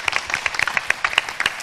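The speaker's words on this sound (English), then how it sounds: "Can you please give a round of applause to the candidates and the panelists?" An audience at a political panel forum claps for the candidates and panelists, a brief flurry of quick, overlapping hand claps that sounds close and fairly loud.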